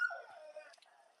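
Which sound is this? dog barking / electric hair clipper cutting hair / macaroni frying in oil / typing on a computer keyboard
dog barking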